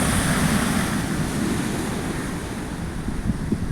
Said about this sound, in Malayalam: കടലിങ്ങനെ ഇളകി മറിഞ്ഞുകൊണ്ടിങ്ങനെ ഒരു വ്യൂ ആണ്.